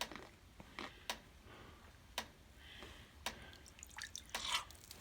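Overflowing water from a farm cistern drips in quiet, irregular drops, each landing as a crisp tick against a soft background hiss.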